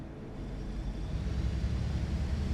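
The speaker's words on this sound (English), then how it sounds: "Yeah, the engine sounds need some work." Low, steady engine drone of a MAN Lion's City bus in The Bus driving simulator, a continuous rumble that swells slightly as it runs, with no talk over it.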